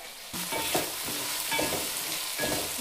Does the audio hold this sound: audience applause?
no